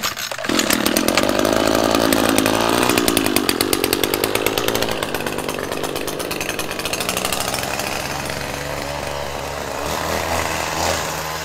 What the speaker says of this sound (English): I want to show you how I maintain those with my string trimmer